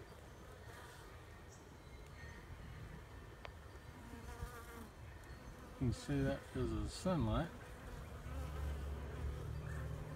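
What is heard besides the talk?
bees flying in and out of a swarm trap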